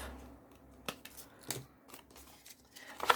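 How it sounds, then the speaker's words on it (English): Scissors trimming the corner off a small piece of scrap fabric: a few quiet, close snips spaced apart, with no talk. "Then trim the corner off."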